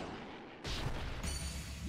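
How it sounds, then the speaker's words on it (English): Spirit Bomb attack in the video game Dragon Ball Z: Kakarot, a sudden heavy booming blast that breaks in after a quieter lead-in and rumbles on loudly with a second surge, no talking. "With the spirit bomb, let's do it."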